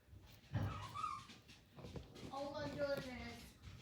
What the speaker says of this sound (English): don't mind my dog barking